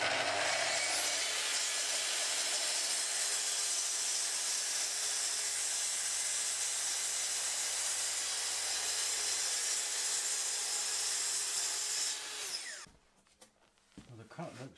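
A power saw makes a long, steady cut through a wooden kitchen table, a loud continuous whine that winds down near the end, followed by quieter handling noises.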